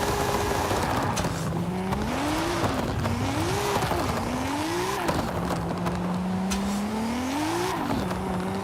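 A Subaru BRZ drifting in Forza Horizon 5, its engine droning with pitch rising and falling as it revs and shifts, layered over a steady wash of tire noise and skidding, continuous and close.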